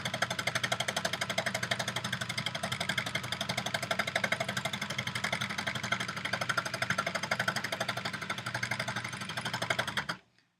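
An embellishing machine punches scrap fabric into fabric underneath with a fast, even mechanical chatter, steady and fairly close for about ten seconds before cutting off.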